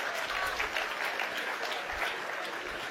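An audience in a church applauds, a steady, fairly loud wash of clapping hands that holds evenly from start to finish without voices rising above it.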